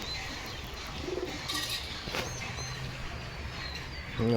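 Pigeons near a nest give soft, low coos over a noisy outdoor background, with a few faint chirps and no talking.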